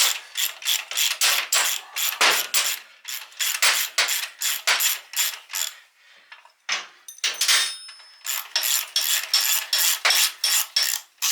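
Ratchet wrench backing a bolt out of the engine of a 1978 Honda XR75 motorcycle, rapid bursts of close, crisp clicking repeated in steady strokes, with a short pause midway and no talking.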